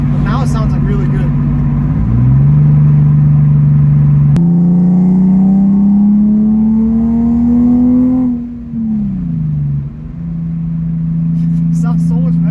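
A BMW E46 with a catless Greddy Y-pipe and single-exit blast pipe idles close by, then revs up and holds a rising drone before settling back to idle; sustained and loud.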